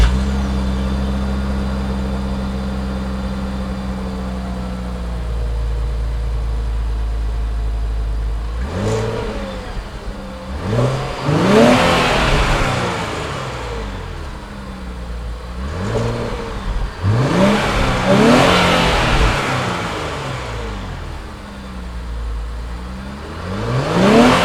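A 2017 Infiniti Q60 coupe's 3.0-liter twin-turbo V6 idles low, then revs hard several times in rising, surging bursts, loud and close, with no talking.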